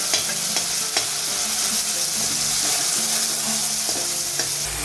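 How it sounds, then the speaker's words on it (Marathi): Curry leaves sizzle in hot oil while being stirred for sabudana khichdi, a steady close frying crackle with the scrape of a spoon, heard alone without talk. "कढीपत्ता टाकलेले त्याला फ्राय करून घ्या छान"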